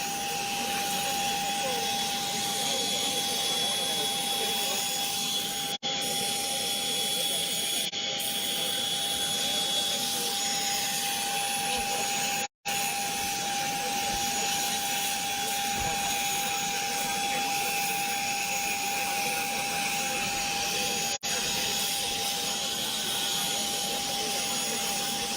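A police transport aircraft runs its engine for a medical evacuation flight, a loud continuous roar with a steady high whine and brief dropouts.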